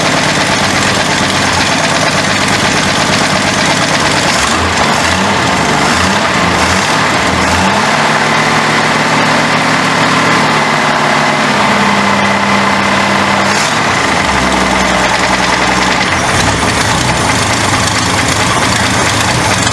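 A 1967 Ford Mustang engine runs at a steady, loud, close idle with a sticking throttle, holding a continuous rumble that rises and falls slightly in pitch midway through, with no voices.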